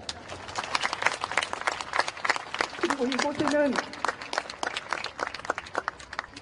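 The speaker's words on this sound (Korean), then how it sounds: "여러분들 박수를 부탁드립니다" Crowd at a memorial gathering breaks into scattered, rhythmic applause with sharp individual claps, while a voice speaks briefly over it midway.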